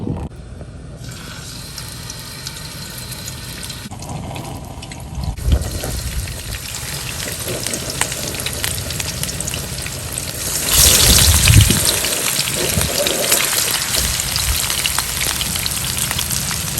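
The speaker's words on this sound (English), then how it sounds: "The oil is hot, so I'm going to start frying my fish." Fish being shallow fried in hot avocado oil sizzles as a constant crackling hiss, swelling louder when more pieces go into the pan partway through, close up with no talk.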